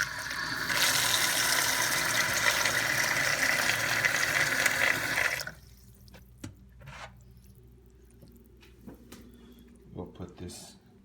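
Water pours steadily into a bowl for about five seconds, a bright rushing splash, then stops, followed by quiet clinks and small handling sounds.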